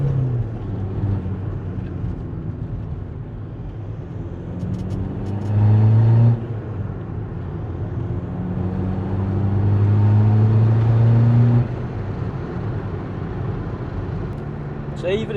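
A tuned Skoda Fabia vRS with a 1.9 TDI PD diesel engine pulls hard through the gears, its drone rising in two long sweeps with a brief lift between them, loud and close from inside the car.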